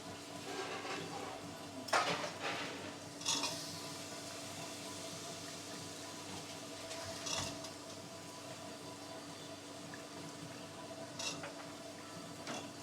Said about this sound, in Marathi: आता आपण हे वाटाणे आणि बटाटे याच्यामध्ये फ्राय करून घेऊया